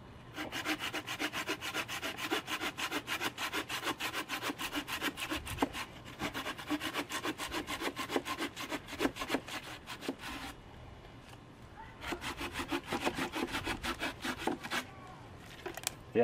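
A Bahco Laplander folding saw cuts through a branch about 2 inches thick, with steady, rapid back-and-forth rasping strokes that run continuously, pause briefly near the middle, then resume close and loud.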